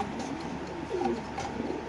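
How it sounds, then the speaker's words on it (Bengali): A pair of young Super Mili pigeons gives a soft, low cooing call close by, one or two throaty burbles against a faint steady background hum, no voices. "86 নাম্বার কাঁচা এক জোড়া সুপার মিলি কবুতর"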